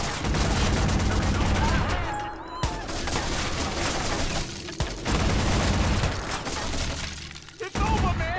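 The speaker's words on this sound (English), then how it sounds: "He's opening up! He's shooting at me!" Dense bursts of gunfire fill a Watch Dogs shootout, loud sustained volleys with brief pauses between them, while frantic voices shout over the chaos.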